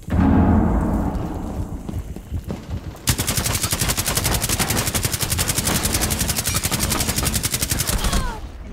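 Light machine gun fire in the game Rainbow Six Siege rattles as a loud, rapid, sustained burst after a few seconds of mixed noise and muffled speech.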